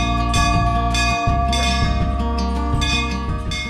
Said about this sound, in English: बगैर छुए घंटी बज जाती है